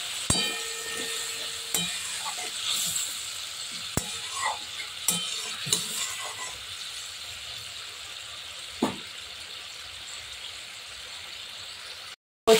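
Hot water is added little by little to a sizzling pan for moong dal cooked with fish head. The frying hiss is broken by several sharp clatters and scrapes, then settles into steady sizzling before cutting off abruptly.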